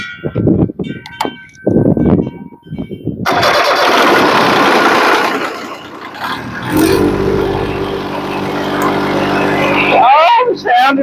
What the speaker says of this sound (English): Oh, the sound of diesels.